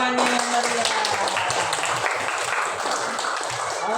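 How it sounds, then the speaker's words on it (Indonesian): Audience applause from students in a classroom, a steady patter of hand clapping lasting several seconds, fairly loud and close. "Oke, tepuk dulu tangannya yang meriah."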